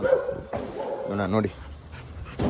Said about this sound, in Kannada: ನೋಡಿ, ಒಂದು ನಾಯಿ ಬೊಗಳ್ತಾ ಇದೆ.